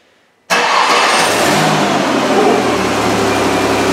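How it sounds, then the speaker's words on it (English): A Ford Escape with an idle air control overspeed fault cold-starts after a brief silence; the engine catches abruptly and settles into a loud, steady, high-revving run. "So let's just go ahead and start it up here. Let's do a cold start."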